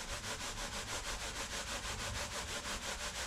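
Carp fishing pick-up baits shaken with quick grits in a container, giving a steady rapid rhythmic gritty rattle, close up and alone for a few seconds.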